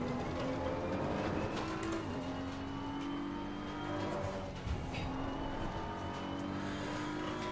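BMW M4 race car driven in Assetto Corsa Competizione at Kyalami, its engine droning steadily and loud with shifting pitch as it brakes and turns in, a brief dip then sustained revving through the whole stretch.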